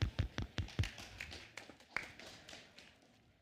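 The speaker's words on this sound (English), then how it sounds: "Round of applause." A round of applause from a conference audience at a summit stage, sharp claps starting loud and thinning out over a few seconds before fading to quiet.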